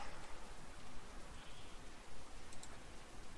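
Steady rain falling in the RimWorld colony game, a soft continuous patter with faint ticking drops, fairly quiet and unbroken, with no talk over it.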